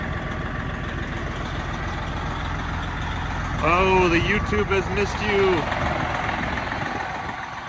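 A Freightliner Coronado truck engine idles with a steady low rumble throughout, while someone talks over it close to the microphone in the middle of the clip.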